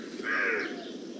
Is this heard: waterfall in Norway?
no